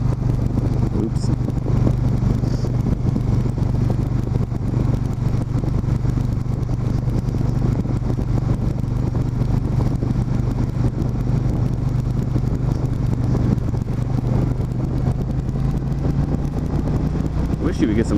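A 1600 cruiser motorcycle with quiet stock pipes idles steadily, a low even rumble heard close for the whole stretch with faint clatter over it.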